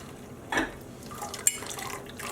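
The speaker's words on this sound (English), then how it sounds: "Letting some of the water drip out." Water drips and trickles off freshly dyed wet yarn lifted from a dye pot, a soft splash followed by a few scattered light drips close by.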